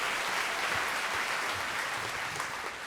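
Audience applause at a live comedy show recorded in Washington, DC: a steady, dense wash of clapping from a crowd that holds for about three seconds and fades slightly at the end.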